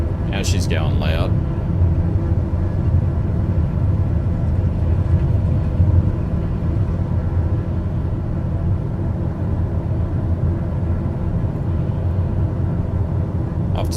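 A TBM turboprop aircraft engine in Microsoft Flight Simulator builds to a loud, steady low rumble and drone, heard close and continuous with a brief higher whine near the start.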